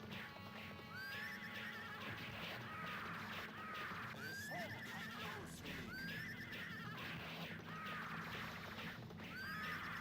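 Repeated horse neighs and whinnies with clip-clop hooves from the Taito arcade game Rastan Saga, several calls recurring over a steady bed of game music and effects.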